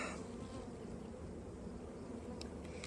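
Honey bees buzz steadily around hive frames being pushed back together, a dense, close, continuous drone with no voices.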